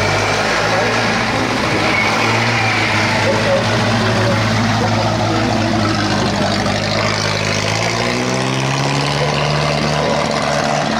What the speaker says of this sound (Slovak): môžeme odštartovať vozidlo v roku 1921